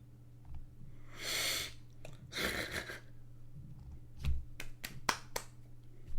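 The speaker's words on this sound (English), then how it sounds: "I don't know why you applauded that." One person's scattered hand claps and snaps under a casual podcast chat, a few sharp close slaps spread over a few seconds with breathy noise between.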